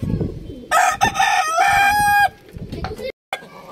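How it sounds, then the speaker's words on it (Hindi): A hen clucks and a rooster crows loudly at close range, one long crow with scattered clucks around it and faint background noise. "ये हमारी मुर्गी है, ये हमारी मुर्गी है भाई"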